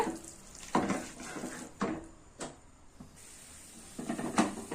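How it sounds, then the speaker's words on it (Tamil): Half a kilo of chicken is stirred in a cooking pan for a Tamil chicken kurma, with a spatula scraping and clanking in several separate strokes against the pan over a soft, low sizzle. "சிக்கன் வந்து ஒரு அரை கிலோ இதையும் சேர்த்து நல்லா கலந்து விட்டுறலாம்"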